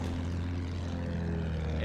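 A propeller-driven fighter plane drones in the First World War shooter game Battlefield 1, a steady continuous engine hum with a low buzzing tone that holds level the whole time, with no talking.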